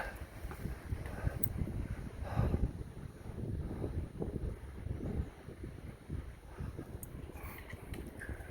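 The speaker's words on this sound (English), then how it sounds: "Love that sound of the wind going through the pines." Steady rushing wind through pine trees on the Appalachian Trail, gusts swelling and easing, a broad breathy roar close to the microphone, no voices.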